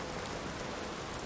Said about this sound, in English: it's not even that I dislike the rain, really